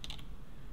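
A few quick, faint clicks from a computer keyboard and mouse, clustered at the very start, then near-silence.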